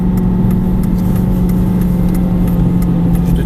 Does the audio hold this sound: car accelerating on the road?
yes